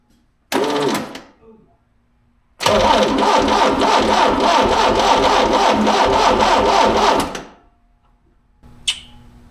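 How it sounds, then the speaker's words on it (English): The Quad 4 engine of a five-speed Beretta Z26 cranks over in two attempts: a brief starter burst, then a longer, steady mechanical whirring of about five seconds that stops abruptly, with quiet gaps around it. "I'm gonna G for the hell of it, just see if it cranks."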